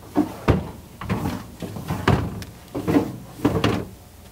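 Drawers and cabinet doors in a 2002 TrailManor 2619 lightweight travel trailer are opened and shut in quick succession, a series of close, loud wooden thumps and knocks with sliding rattles between them.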